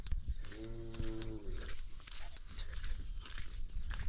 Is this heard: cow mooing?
yes